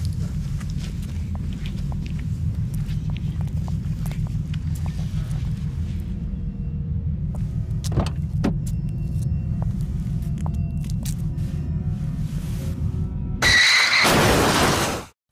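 A car rumbles steadily from inside the cabin, then brakes very hard near the end with a sudden loud, harsh tyre squeal and noisy burst lasting about a second and a half.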